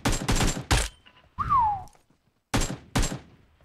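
Sharp sniper rifle shots in PUBG Mobile, three loud close cracks with echoing tails, a whistling projectile sound between them, then two more loud shots after a short gap.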